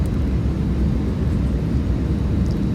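Airplane cabin in flight from Bacolod to Cebu, a steady low droning engine and airflow rumble that fills the whole stretch, no talking.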